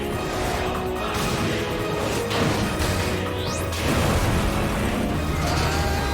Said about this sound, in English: Don't worry, it was a rubber cannon shot.